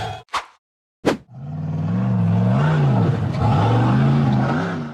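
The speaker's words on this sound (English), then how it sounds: "The white-framed buggy accelerated hard up a steep rocky climb." An off-road buggy with a white frame revs hard and accelerates up a steep rocky hill climb, its engine rising in a loud, sustained wavering roar after a couple of short knocks and a moment of silence.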